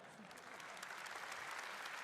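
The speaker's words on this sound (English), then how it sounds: "let's give him a huge round of applause" An audience applauds at a Gran Turismo World Series grand final, a dense sustained clatter of many hands clapping that holds steady and faintly distant throughout.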